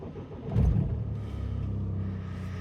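A 2013 Mini Clubman 2.0 diesel automatic starting up: a brief cranking surge, then the engine settles into a steady low idle rumble, heard close by.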